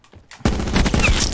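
Swordfish tactical rifle in a video game shooting rapid bursts, a loud sudden onset of close, sharp gunfire after a brief quiet moment, continuing in quick repeated cracks.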